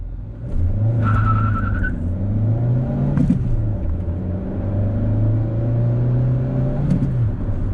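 A Citroen C2 VTR pulls away from traffic lights, its engine note climbing in pitch, dropping at each of two gear changes and climbing again, heard close and clear with no talk.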